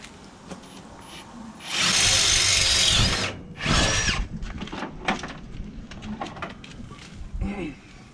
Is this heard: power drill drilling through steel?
yes